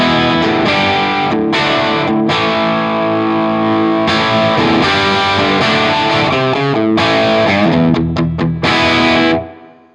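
An electric guitar plays through an amp with a crunchy overdriven tone, sustained chords and single notes ringing in a full but not muddy sound, with a few quick choppy strums near the end before it cuts off.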